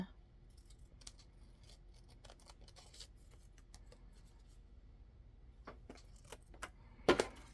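Old Dollar Tree kitchen scissors cut paper in faint, scattered snips and light clicks in a quiet room, ending with one sharper, louder cut.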